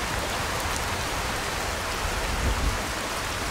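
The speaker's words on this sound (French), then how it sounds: "Non, il pleut" Steady rain falls in the Skyrim VR game on the plains outside Whiterun, a dense, even hiss throughout with no thunder, alone and at constant loudness.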